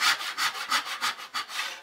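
A hand saw cuts through wood for a spoon blank, with about seven rhythmic rasping strokes in quick back-and-forth succession, close and fairly loud with no talk.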